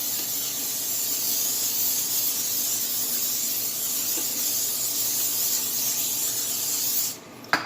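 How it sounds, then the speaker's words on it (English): Nonstick cooking spray hissing onto a flat oven pan in a home kitchen, a continuous close spray that cuts off abruptly near the end, followed by a brief click. "I will be using my nonstick spray on the flat pan, on the oven pan."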